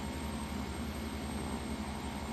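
Fokker F27 Friendship turboprop engines idle steadily in the X-Plane flight simulator, a continuous close drone with a low throbbing pulse and broad hiss, with no voices.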